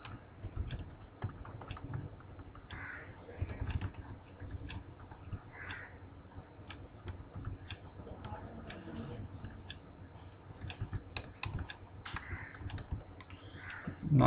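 Steady rapid keystrokes on a computer keyboard while code is written, continuous light clicking close by throughout, with faint talk in places.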